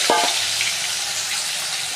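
Potatoes dropped into hot oil left from frying fish, a brief splash at the start giving way to a steady, bright sizzle that continues evenly.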